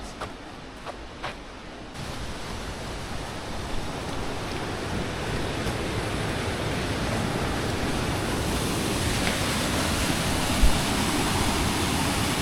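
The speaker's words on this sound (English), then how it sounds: "Although it's not the most majestic waterfall we have seen" A constant roaring rush of a waterfall in New Zealand, broad and steady, with a few light bumps at the start before the roar grows fuller.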